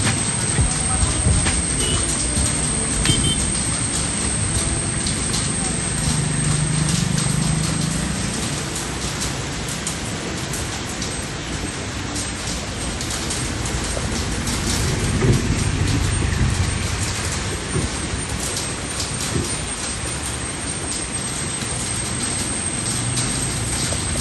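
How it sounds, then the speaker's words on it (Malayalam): A train rolls across a bridge over a Kollam backwater, a steady rumbling rail noise with rhythmic swells heard from nearby over sustained outdoor noise, continuing throughout. "കായലിന് നടുവിലൂടെയുള്ള പാലത്തിലൂടെ ട്രെയിൻ പോകുന്ന മനോഹരമായ ദൃശ്യമാണ് നമ്മൾ കണ്ടുകൊണ്ടിരിക്കുന്നത്."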